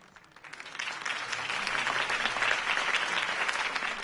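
A crowd at a political campaign rally in Batman: The Telltale Series breaks into applause, swelling quickly from quiet into a dense, sustained clapping that holds steady.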